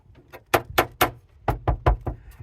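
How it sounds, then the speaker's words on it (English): A locked steel door fitted with two padlocks is rattled and banged in a string of sharp metallic clanks, about eight hits in uneven rhythm, close and loud. "It's a steel door with 2 padlocks on it."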